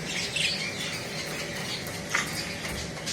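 Budgerigars, a female Texas and a male spangle, squawk and chatter in a cage with rapid, scratchy high-pitched calls over a constant bright background hiss.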